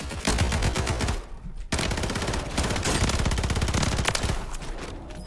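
Rapid automatic gunfire in Call of Duty Warzone, loud close bursts of fast repeated shots with a brief pause before firing resumes, continuing nearly nonstop.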